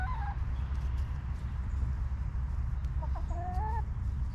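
A few short clucks from chickens at a distance over a steady low rumble of wind or outdoor noise, with a brief burst of clucking near the end.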